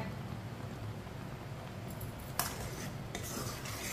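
A spoon stirring raw mango jam in a cooking pot over medium heat, soft scraping and a low simmering hiss with a couple of sharper metallic clinks near the end, close and quiet, no talking.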